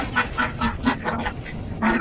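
A hen clucks in a series of short, rhythmic calls close by near a hand-tamed budgie, with louder, harsh notes at the end.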